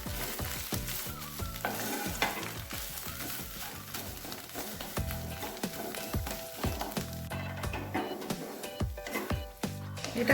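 Flour is stirred into spices frying in a pan, with a continuous sizzle under repeated scraping strokes of a spoon that keep a steady, close rhythm throughout.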